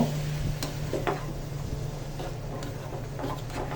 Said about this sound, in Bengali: সজনে ডাটা দিয়ে দিচ্ছি ভালো করে মশলার সাথে মাখিয়ে নেব